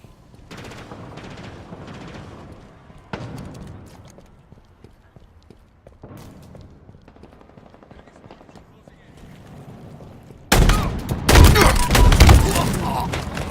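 Bursts of shotgun fire in a video game crack out in a dense, loud volley near the end, after a stretch of quieter scattered thumps and shots mixed with game sounds.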